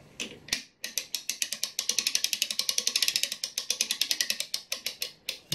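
A clock mainspring, from a German Westminster Glocken-Speil Model 107 wall clock, is wound with a spring winder, giving a long run of steady, close metallic ratchet clicks at an even rhythm, with no talk.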